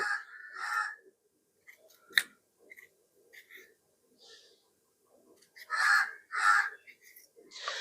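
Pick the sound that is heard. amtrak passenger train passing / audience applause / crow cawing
crow cawing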